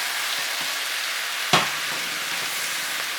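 Beef and udon noodles sizzle together in a stir fry, a steady close hiss with one sharp clatter or splash partway through, then the frying carries on evenly.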